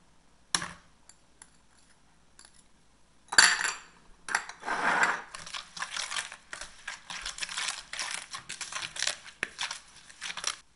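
Ingredients for a Vietnamese BBQ pork marinade get combined in a large bowl: a few sparse clicks, then a steady run of scraping, clinking and squelching from about three seconds on, close and moderately loud, with no talking.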